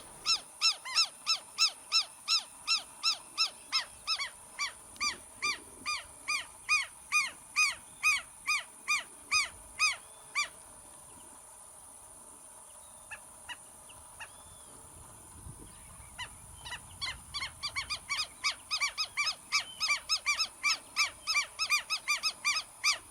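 A lapwing in the Pantanal calls insistently, repeating sharp, strident notes in long rapid rhythmic runs that pause briefly before resuming, fairly close and clear over a quiet background.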